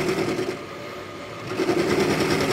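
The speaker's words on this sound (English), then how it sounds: "we will probably just mill away until we get down to clean metal" A workshop milling machine zigzags across tough metal bike parts down to clean metal, giving a steady, close, continuous buzzing whir with a rough grinding texture that holds throughout.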